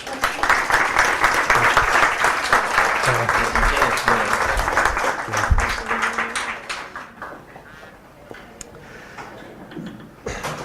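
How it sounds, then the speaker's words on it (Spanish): Audience applause greets a speaker arriving for a talk on his experiences with mystery and the Cuarto Milenio programme, loud dense clapping that runs steadily for several seconds, then thins and fades toward the end, with a few isolated claps after. "con un aplauso"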